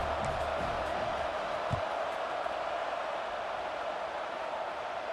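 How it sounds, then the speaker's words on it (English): Stadium crowd buzzing in the EA Sports College Football 26 video game, Miami against USMC, after a score before a kickoff: a steady, dense roar of a large crowd that holds level throughout. "this crowd is buzzing after that last score"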